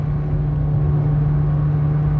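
A 2017 Nissan GT-R with an 816 hp engine rumbles steadily from inside the cabin while driving, a loud constant low drone with no talk.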